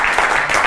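A magic show audience applauds for the helpers, a dense, continuous wash of clapping filling the short moment, fairly loud and close.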